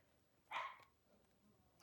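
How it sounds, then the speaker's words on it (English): A dog barks from behind a curtain, a single short muffled bark, fairly faint, with quiet room noise around it and a small rustle at the end. "Just ignore the dog behind the curtain."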